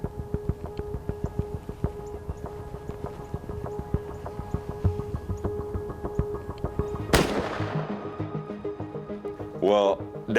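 A single hunting shot fired at a big Kansas whitetail buck cracks sharply, preceded by rhythmic shuffling and faint talk, then fading echo and brief sounds afterward.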